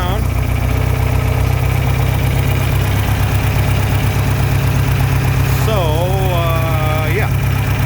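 John Deere 3020 LP tractor engine idling, a loud, close, steady mechanical chug with a faint knock, running continuously while a person talks over it.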